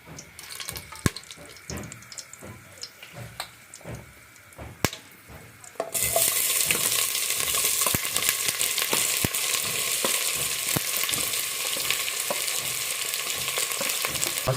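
Rice fries in a pan toward golden for a pressure-cooker biryani, first softer scattered clicks and stirring, then a sudden loud, steady hiss that fills the rest of the clip.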